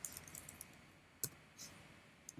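Keys on a computer keyboard are tapped in a quick, light burst followed by a few scattered clicks and one sharper keystroke, faint and close in a quiet room, with no one talking.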